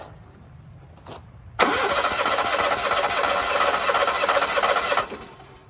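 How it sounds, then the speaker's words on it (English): An Onan Marquis Gold 5500 generator engine cranks on its starter with the oil pressure switch disconnected: a sudden loud, steady whirring drone runs for about three and a half seconds, then stops, with a faint click before it starts. "Now I'm going to disconnect the oil pressure switch and press the start."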